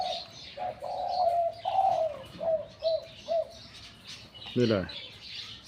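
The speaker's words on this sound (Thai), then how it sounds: "อันนี้3 กุกเสียงเล็กนะครับ" A Thai lure dove of the three-note coo type gives a series of close, clear coos in a steady rhythm, with a brief voice speaking near the end.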